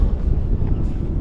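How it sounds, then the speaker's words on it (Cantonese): Wind buffets the microphone on a rocky hilltop during a hike in the Castle Peak hills, a brief steady low rumble with no other sounds. "有風特別爽啊！"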